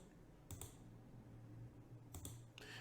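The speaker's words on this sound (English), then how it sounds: "just being able to click in there and start typing." A computer keyboard gives two quick bursts of soft key clicks, faint and close, separated by a pause and set over a quiet background hum.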